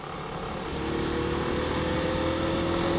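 Honda CB 160F motorcycle riding steadily at about 50 km/h, its engine droning loud and close with a gradual rise in intensity, no voices present.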